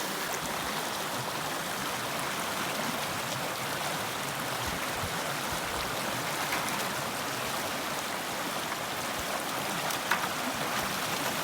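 Water and rocks rushing through a Keene A52S Super Sluice, a steady loud broadband wash of flowing water with faint scattered knocks of stones throughout, no voices.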